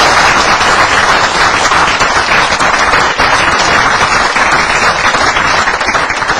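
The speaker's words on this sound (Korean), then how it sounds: "박수 한번 보내드릴게요." An audience at a lecture gathering applauds loudly and continuously, a dense, even wash of many hands clapping that fills several seconds without talk.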